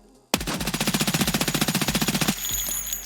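An SR2M submachine gun in Escape From Tarkov fires from a standing position in one continuous rapid burst of about two seconds, loud and close, with evenly spaced shots. A couple of faint clicks follow, and no one talks.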